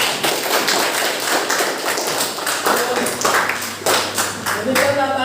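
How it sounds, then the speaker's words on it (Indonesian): A class claps together in a brief, close round of taps and claps, fairly loud and uneven, with a faint hum beneath. "Tepuk tangan dulu."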